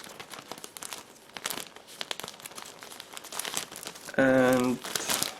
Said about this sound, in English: Just give me a second to open it, because it's packed into the separate plastic bag.